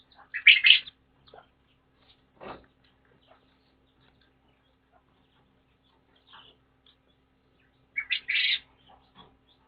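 Therapy birds near an aviary give a couple of bright, sharp chirping bursts at the start and near the end, separated by quiet stretches with faint small noises.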